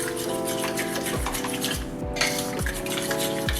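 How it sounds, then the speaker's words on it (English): Cheesy chicken tetrazzini with paprika is stirred in a pan, giving a steady close scraping, rhythmic sweeps of the spoon about every half second over a continuous sizzle and bubbling, with no talk. "So I'm going to stir this around a little bit."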